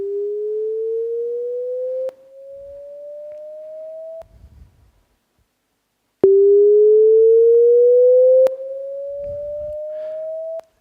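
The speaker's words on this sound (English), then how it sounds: "I'm going to set the value halfway through the sine sweep so that we get a change in the gain, a volume change." Pure sine sweep gliding steadily upward in pitch, played twice, each pass with an abrupt mid-sweep volume step that produces a sharp click; a quieter gap separates the two passes.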